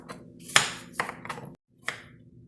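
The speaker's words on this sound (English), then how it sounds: "So just chop the apple up." A knife chops a sweet Red Delicious apple on a board, giving a few sharp, separate cuts spaced irregularly, close and moderately loud, with a short silent gap between strokes.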